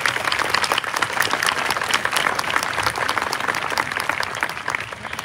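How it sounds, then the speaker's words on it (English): Steady, dense applause from a large audience at a middle school graduation, clapping for the parents and family, sustained and even throughout. "Please have a round of applause for our support systems, parents, grandparents, extended family members."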